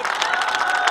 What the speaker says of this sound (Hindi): तालियां बजती रहना चाहिए अपनी